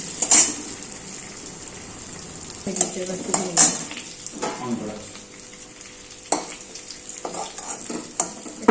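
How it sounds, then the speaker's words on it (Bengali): Potatoes sizzle in a hot pan with scraping and stirring, a few sharp clinks of a utensil against the pan, close and moderately loud. "আলুটা আমি ভেজে নিচ্ছি"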